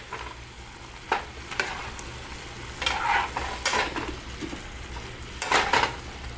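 Vegetables coated in curry powder and garlic salt are stirred in a pan with a low steady sizzle, broken by several scraping and clattering strokes of a utensil against the cookware, with no talking.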